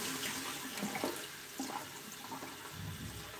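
Running water from a tap splashes steadily over a shaving brush left soaking in it, a close continuous trickle and spatter with small clinks.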